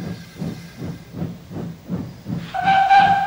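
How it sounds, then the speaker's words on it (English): A cartoon steam locomotive puffs in a steady rhythm of soft chuffs, then a loud sustained hiss of released steam joins in near the end, all close and without any voices. "So the fireman lit the fire and made a nice lot of steam."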